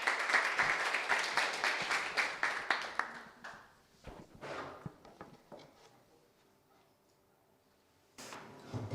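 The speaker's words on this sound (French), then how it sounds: "on les applaudit." An audience at a coding bootcamp demo day in Rennes applauds the presenting team, with dense clapping over the first three seconds that thins to scattered claps and fades to near silence, then a brief burst returns at the end.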